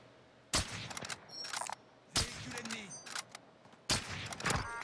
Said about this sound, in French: Ouais, Daron, ça tire là-bas.